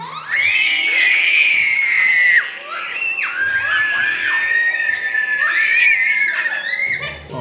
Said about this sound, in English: Guys, they always scream, here it comes